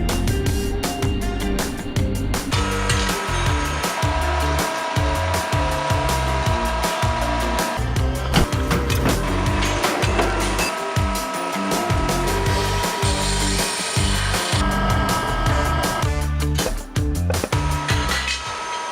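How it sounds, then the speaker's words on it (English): A 100-ton press forms a steel tube for a Jeep JK front tube door in a fabrication shop, loud continuous machinery noise with hydraulic whine and clunks over about nineteen seconds, without speech. "it's now time to head over to the 100-ton press for some press forming"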